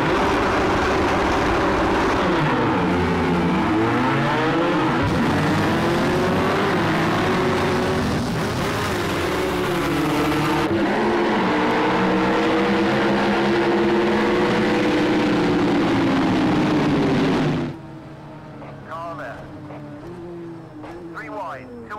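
Porsche mid-rear-engine race car in a racing video game, engine roaring continuously with rising and falling revs through gear changes, then dropping off to a quieter idle-like tone near the end.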